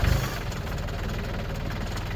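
A hydrostatic tractor engine fires up with a brief loud burst and then settles into a steady, low, knocking idle, close by and alone.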